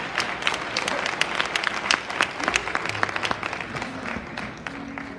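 An audience at an Upward-Bound induction ceremony gives loud, dense applause, many hands clapping together for the whole stretch, with some faint voices mixed in.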